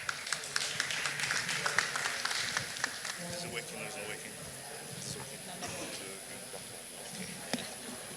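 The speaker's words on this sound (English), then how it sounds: "A round of applause for him." Audience applause at a high-level agri-finance side event, a scattered clatter of claps strongest at the start and thinning out, with quieter taps trailing off.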